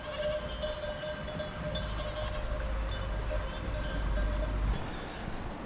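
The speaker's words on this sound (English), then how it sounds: "Goats." Goats bleating outdoors along a rural stretch of the Camino de Santiago between Trabadelo and Linares, a few moderately distant calls repeating over steady low outdoor rumble, with no talking.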